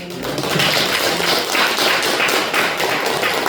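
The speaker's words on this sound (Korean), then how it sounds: "오늘 처음 와주신 분 감사하다고 박수 한번 쳐드리고" A crowd claps steadily together at a Buddhist dharma talk gathering in Paju, welcoming first-time attendees, with dense, even clapping filling the whole moment and no talking.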